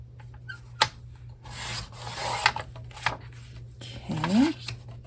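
Paper is cut to size for a craft project, giving close rubbing and rasping strokes broken by a few sharp clicks, over a low hum.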